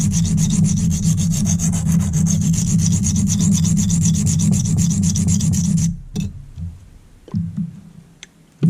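A stone is rubbed back and forth on a silicon carbide flattening stone in a loud, gritty, continuous rasp that cuts off abruptly, followed by a few quieter scrapes and clicks.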